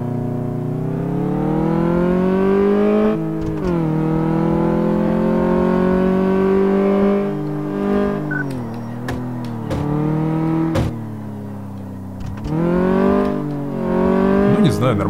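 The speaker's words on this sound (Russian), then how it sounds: "Так, ну что же, давайте проведем тест-драйв." A car with broken steering on a test drive in Car Mechanic Simulator, its engine droning and revving up and down through gear changes, loud and close, while someone talks over it.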